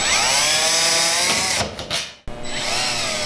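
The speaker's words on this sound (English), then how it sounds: "For this you will need a Phillips screwdriver or a Phillips bit for your drill, and take all the screws out" Power drill fitted with a Phillips bit backs screws out of a pizza oven shell, whining loud and close, dipping as a screw comes free, stopping briefly, then spinning up again.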